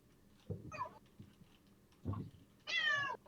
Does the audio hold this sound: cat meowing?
yes